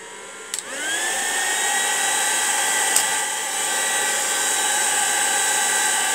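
Heat tool blowing hot air onto a sheet of Sizzix shrink plastic, a steady close whooshing hiss that switches on after a brief click and holds loud and even throughout.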